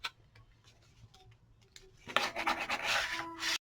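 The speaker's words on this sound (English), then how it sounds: "this is when I'll give it a good rub and get those folds to work like I want them to" Rubbing down the folds of a paper pop-up display card by hand, a soft scattered ticking at first, then a louder, continuous rasping friction for about a second and a half before it stops abruptly.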